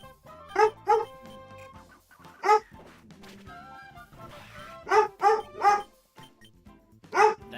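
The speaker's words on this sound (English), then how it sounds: "Apologies for the barking." A dog barks indoors in close, loud bursts: a double bark, then a single bark, then three in a row and one more, while soft game music plays underneath.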